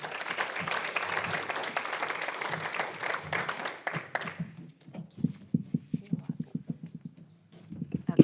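Applause from an audience at a club luncheon event fills the room with dense clapping that thins out into scattered individual claps near the end.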